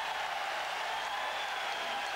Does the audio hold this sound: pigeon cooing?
no